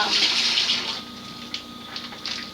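Tap water runs into a sink while ingredients are washed, a bright close splashing that eases after a second and continues more quietly with small irregular splashes.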